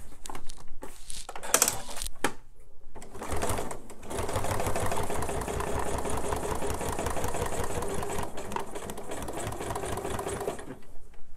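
A sewing machine runs steadily, stitching down the side seam of a fabric purse. A few short bursts and stops come first, then a long continuous whirring run until near the end.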